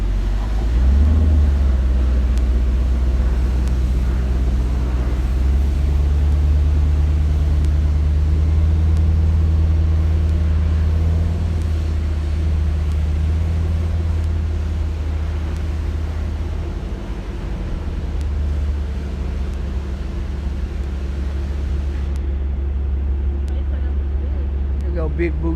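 A Camaro idles indoors in a clubhouse, a heavy, continuous low rumble that stays loud and close for the whole span, dipping slightly near the end, with people talking over it.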